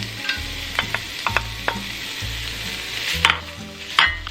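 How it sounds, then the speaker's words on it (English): Chopped bacon fries in a large pot over medium heat, a close, continuous sizzle broken by a few sharp pops and the scrape of occasional stirring. "We're going to fry these bacon for about 8 minutes until they are nice and crispy, stirring occasionally."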